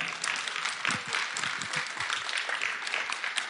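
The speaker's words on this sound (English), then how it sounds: "So I would just like to give a round of applause for that" Audience at a Sunday service event applauds, a close, dense patter of many hands clapping steadily throughout, with a few cheers and voices mixed in.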